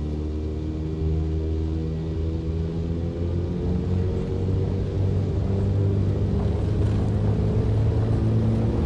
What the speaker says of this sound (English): Alright, what does this aircraft sound like? Immediately, it sounds awesome.